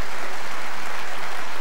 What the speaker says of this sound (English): and a tremendous round of applause.